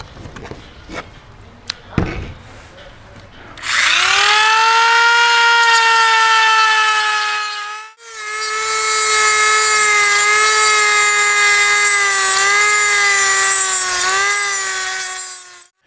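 A power tool grinds rivets out of a 1960-63 Chevy/GMC truck vent window. After a few light taps, a loud, high, whining tone rises and holds, cuts out briefly, then whines again for several seconds before stopping.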